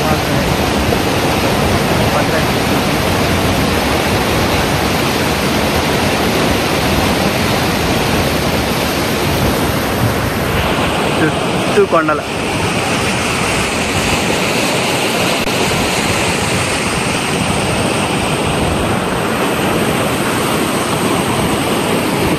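Steady, loud rush of the Thalakona waterfall pouring down among surrounding hills, a dense roar filling the whole scene while someone talks over it close by.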